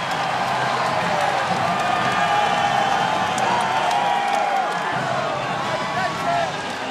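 Basketball arena crowd at a BYU vs Gonzaga game keeps up a steady roar of cheering throughout, broad and sustained, with a commentator speaking over it.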